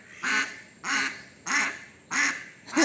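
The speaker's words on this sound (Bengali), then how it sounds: "দেখো আমার পেছনে হাঁসগুলো কী করছে" Ducks on a village homestead give five evenly spaced, nasal quacks, each loud and clear over a quiet background with no talking.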